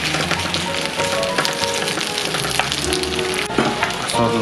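Sliced eggplant sizzles loudly in hot perilla oil in a pan, a dense crackling hiss with occasional scraping and shifting as it is tossed, close and continuous without talk.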